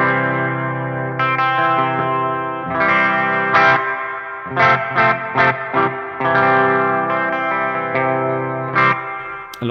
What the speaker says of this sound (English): We can go to now 78 plate, and I traditionally really like plate reverb